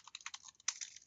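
Quick bursts of keystrokes on a computer keyboard while writing Game Maker code for a 3D RPG, uneven clicking taps close and fairly quiet, with a sharper cluster near the end.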